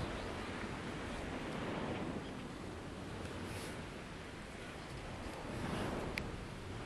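Sea waves wash onto a sandy beach, a steady broadband surf roar with gentle swells in loudness, mixed with some wind noise and no voices.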